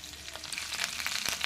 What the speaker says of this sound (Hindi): हमने कढ़ी पत्ता, अदरक, मिर्ची सब डाल दिए हैं। तड़का हमारा होने वाला है